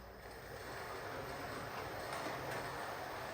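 Flying Dutchman model train running slowly in reverse, a steady low mechanical rumble and hum that holds evenly throughout with no talking.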